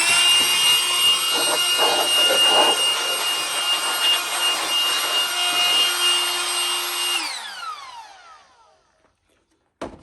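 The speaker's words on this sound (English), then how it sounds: "blowing off the bench, blowing little bits of powder or brass or whatever off of the press" A cordless electric dust gun blasts air across a reloading bench and press, a loud steady whine that runs for about seven seconds before spinning down, followed by a brief click at the end.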